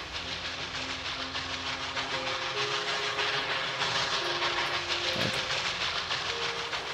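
A log train rolling along its track in the factory-building game Kubifaktorium, a steady mechanical rumble and hiss with faint tonal hums, continuous and fairly close throughout with no speech.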